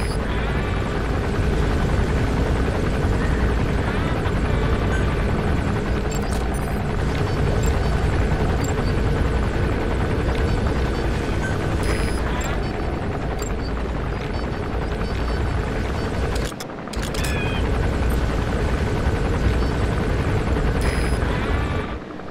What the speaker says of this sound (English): There's a chopper landing. It must be carrying the arms dealer.